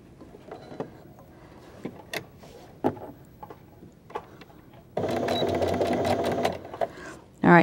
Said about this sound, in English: Now we're going to sew this seam.